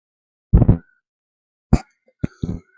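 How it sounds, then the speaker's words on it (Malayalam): Chopped onion tipped into a curry pan in a home kitchen, a few short, close, dull plops and clatters separated by silence. "നമുക്ക് സവാള ചോപ്പ് ചെയ്തും കൂടി ഇട്ട് കൊടുക്കാം"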